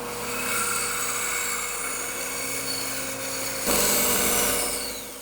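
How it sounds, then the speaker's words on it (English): A bandsaw cuts out a shape from scrap wood about an inch thick, giving a steady whining machine drone that grows louder and coarser for the last seconds as the blade bites deeper. "I then cut it out using my bandsaw"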